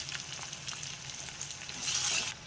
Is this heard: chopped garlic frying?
yes